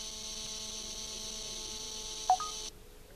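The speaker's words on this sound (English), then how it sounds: "That's the sound of being so-called busy." Steady electronic tone heard while calling a Samsung Galaxy Young Android phone that is set to return a busy signal, a continuous hum-like line signal that stops abruptly near the end, with one brief blip just before.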